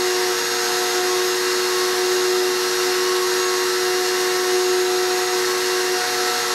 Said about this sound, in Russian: Поэтому сейчас пылесос подключен снизу, изнутри стола